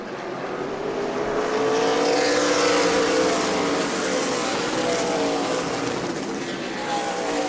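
Super late model race cars roar around the New Smyrna track during a Sunbelt Series 100-lap race, a loud sustained engine drone with shifting pitch as the pack runs, no voices.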